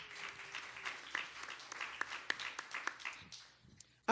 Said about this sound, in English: Let's give Charlie a round of applause as well